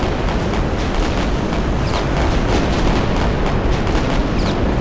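Cruiser cannons firing in a Pacific naval battle game, heavy booming blasts crowding together into a dense, continuous rumble of artillery with rapid overlapping reports, loud and sustained throughout.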